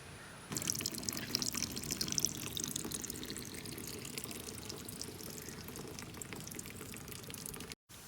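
Water trickles and splashes steadily through a homemade aquarium overflow pipe, a continuous close wash of running water that starts abruptly and holds at an even level with no voices.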